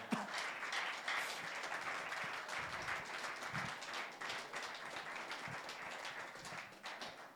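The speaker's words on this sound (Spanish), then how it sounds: "Dale fuerte palmas al Señor." A church congregation claps steadily for about seven seconds, a dense, fairly quiet patter of many hands with scattered sharper individual claps.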